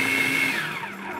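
A blender whirs through raw pecan pie filling, a loud steady motor drone whose pitch sags slightly as the load thickens, heard on its own without talk.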